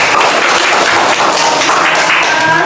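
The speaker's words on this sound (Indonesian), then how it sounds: "Kita kasih aplaus dulu." A classroom of students applauds, steady dense clapping filling the room, loud and close for a few seconds.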